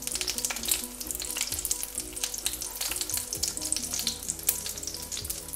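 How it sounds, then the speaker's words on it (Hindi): Potato kebabs, or cutlets, frying in hot oil, a dense continuous crackle and sizzle with steady popping, close and even throughout, with no talk. "इसी तरह हम सारे कबाब फ्राई कर लेंगे"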